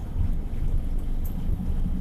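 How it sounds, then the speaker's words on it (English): Strong wind buffets the microphone with a heavy, continuous low roar and rumble, loud and unbroken, with no voices, on a sunny 39-degree day. "the temperature's 39, but it is extremely windy"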